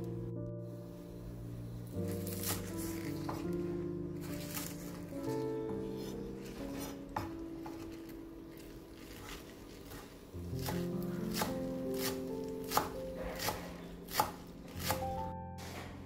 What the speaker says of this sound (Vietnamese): lấy hành lá để cắt phần gốc cho luôn vào nồi canh, còn lá hành sắc nhuyễn để dành nêm sau cùng